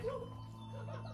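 A small dog whimpers and whines softly, a brief close sound over steady low background hum.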